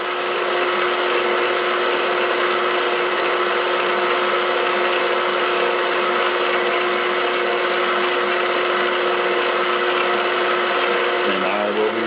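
An electric mixer whirs steadily through cheesecake batter, a loud constant motor hum with a bright whine, unchanging for many seconds before shifting slightly at the end.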